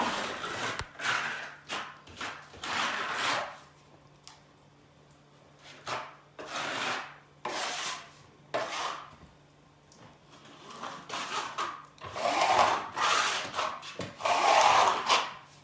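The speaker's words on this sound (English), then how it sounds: "Using firm pressure, you'll hear a scraping sound made by the trowel." Repeated rasping scrapes of a plastering trowel dragged with firm pressure across plaster over scrim on a wall, coming in uneven strokes with brief quiet pauses between them.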